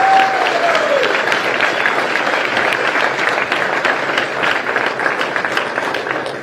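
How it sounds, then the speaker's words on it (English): A crowd at the opening ceremony of the 2023 PDGA disc golf world championships applauds the sponsors with sustained, dense clapping, steady and loud throughout. "Big round of applause for all our sponsors"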